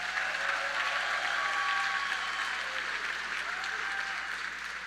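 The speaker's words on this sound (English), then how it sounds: "Let's give another round of applause to all the young people who came up here and spoke tonight." Sustained audience applause fills a high school graduation ceremony hall, a dense, even wash of clapping from a large crowd that holds steady throughout and tapers slightly at the end.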